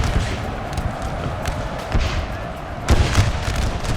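Musket volleys crack out during a Civil War battle at Gettysburg in North & South, a few sharp thumping reports over a noisy battlefield bed, the strongest burst near the end.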